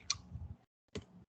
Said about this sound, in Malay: saya press delete dekat saya punya laptop lah